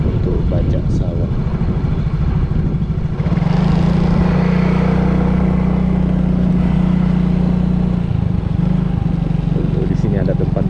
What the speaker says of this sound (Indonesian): Di sana juga ada traktor ya untuk bajak sawah.